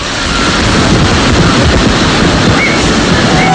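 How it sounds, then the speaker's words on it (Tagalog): Strong typhoon wind of Super Typhoon Haiyan (Yolanda) striking Iloilo, Philippines in 2013, a loud, continuous broadband roar with surf-like gusting that fills the whole stretch, no voices. "Naging matindi ang hanging dinala ng Bagyong Yolanda dito sa Iloilo."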